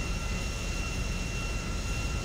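A plane's engine drones in GTA V, a steady, loud, even roar with a faint high whine running through it and no voices.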